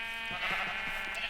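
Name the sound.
sheep bleating in a pen in video game Minecraft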